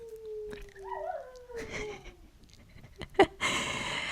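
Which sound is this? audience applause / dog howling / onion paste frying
dog howling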